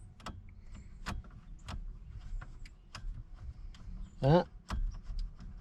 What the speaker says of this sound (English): So there's hatch release, button works.